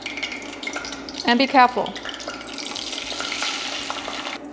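Food sizzles in hot oil in a pan, a steady crackling hiss with brief stirring clatter, while a person speaks briefly over it.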